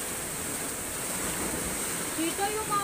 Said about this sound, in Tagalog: Hideout namin, pinapasok kami ng tubig.